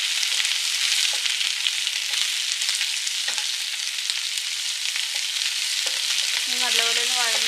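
Sliced onions sizzle loudly in hot oil in a pan over full heat, a steady bright frying hiss running throughout with occasional faint clicks and a brief tonal squeak near the end.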